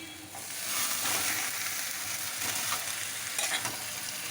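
Mutton pieces frying in spiced masala in a pan, a steady loud sizzle with stirring scrapes throughout, no talking.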